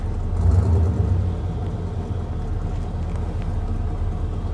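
A tall four-wheel-drive truck pushes through snowy woods, its engine a steady low rumble that swells briefly near the start and then settles into a continuous drone.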